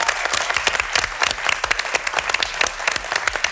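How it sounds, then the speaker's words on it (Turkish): A studio audience at a Turkish late-night talk show gives dense, loud applause, a continuous close wash of many hands clapping with no talk over it. "Bir onları alkışlayalım."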